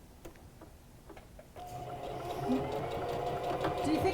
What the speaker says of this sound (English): he's going to sew the first pieces together to kind of show you how we're going to be piecing this together.